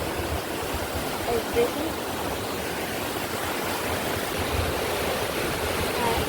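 Seawater rushes steadily on the beach at Mandarmani, a broad, continuous wash of surf noise with no break, and a voice speaks briefly over it.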